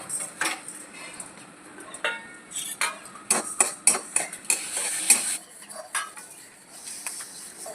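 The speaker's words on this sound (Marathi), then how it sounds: "सगळ्यात आधी आपल्याला धणे भाजून घ्यायचे आहे." Coriander seeds dry roasting for misal masala, with a metal spoon repeatedly scraping and clinking against the pan in an uneven rhythm, a faint sizzle beneath, close and clear.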